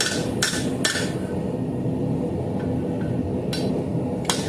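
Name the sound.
long handled hammer striking metal while forging a dinner bell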